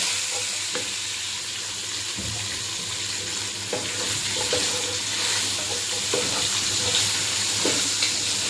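Green chillies and curry leaves crackle and sizzle in hot oil for an egg curry, a constant close frying hiss dotted with scattered sharp pops throughout, with no voices.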